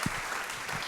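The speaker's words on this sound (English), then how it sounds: "The crowd goes wild." A short burst of crowd applause used as a cheering sound effect, a brief wash of clapping and noise that starts abruptly and runs under a second.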